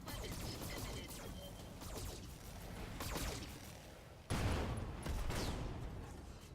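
A mech firing a full weapons volley in the Roguetech mod of BattleTech: a dense barrage of overlapping shots and blasts, with a sharp, louder impact near the end, all without speech.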